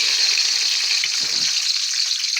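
Onion and garlic sizzle steadily in hot oil in a pan, a close, continuous hiss with no talk and a brief low stir or clunk partway through.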